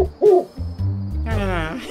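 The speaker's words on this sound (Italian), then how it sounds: "È solo un gufo!" In a cartoon, an owl gives a close, clear hoot, followed by low tonal sounds and a warbling call, with no talk over it.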